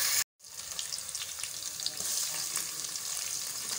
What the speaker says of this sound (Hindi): यहाँ पे हम लोगों ने प्याजों को रख दिया पकने के लिए, तो हम लोगों ने हल्का सा इनको ब्राउन करना है